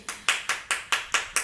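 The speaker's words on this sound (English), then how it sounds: "You can clap, it's fine" An audience at a small concert claps in a tight, regular rhythm, seven crisp evenly spaced claps at a steady tempo, fairly close and clear with no talk over them.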